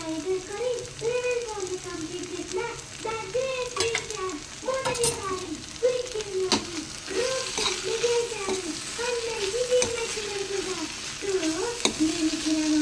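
A spoon scrapes and stirs through a beans and tomato curry with ginger garlic paste as it fries in a pan, giving rhythmic scraping strokes over a constant close sizzle, while a voice talks along.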